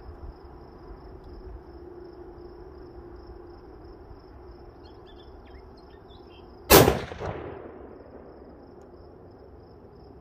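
A single Mosin rifle shot cracks sharply and loudly, then a rolling echo fades away. Faint insect chirping runs before and after in an otherwise quiet outdoor setting.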